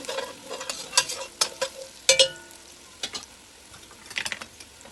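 Spoon stirring chopped onion, salt and tomato with spices in a cooking pan, a faint sizzle running underneath scattered scraping clicks and sharper clanks at irregular intervals.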